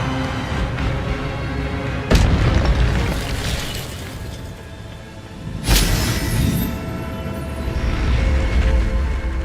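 Expelliarmus spell effects in the Hogwarts Legacy video game hit as two sharp, booming bursts a few seconds apart over steady game ambience, each trailing off into a swirling rumble.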